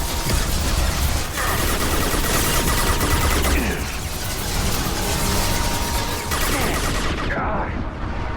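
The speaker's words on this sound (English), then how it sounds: "Stop shooting at me." Gunfire in Mass Effect 2 chatters in dense, continuous bursts of rapid shots with mechanical clatter, loud and close for several seconds before cutting off.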